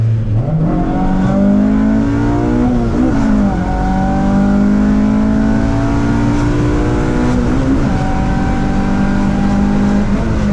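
A car with a K24 engine downshifts from third to second and pulls hard, its exhaust note rising steadily in pitch through the rev range, loud and close, with a brief dip at a shift partway through.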